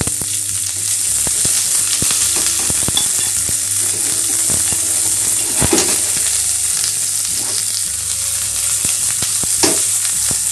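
White onion sizzles steadily in a hot pan with a constant crackling fry and occasional stirring clatters, close and loud, with no one speaking.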